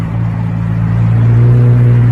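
A McLaren sports car's engine rumbles loud and close, a deep low drone that swells steadily as it revs.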